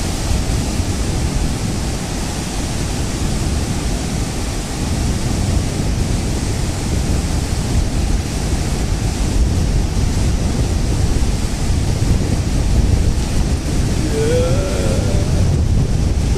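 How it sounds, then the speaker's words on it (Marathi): Sea waves roll onto a beach at Dapoli on the Konkan coast of Maharashtra, a loud, unbroken surf roar mixed with wind buffeting the microphone, steady throughout with no speech. "आता लाट आली, पाणी येत आहे."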